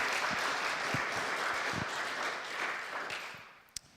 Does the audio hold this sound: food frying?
no